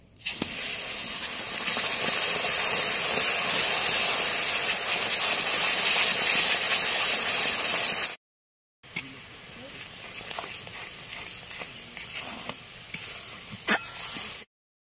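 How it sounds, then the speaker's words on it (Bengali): Papaya paste hits caramelized sugar in a hot pan, a loud steady sizzle that cuts off abruptly, then returns softer and rougher with small pops. "এবার পেঁপের পেস্ট দিয়ে দেবো"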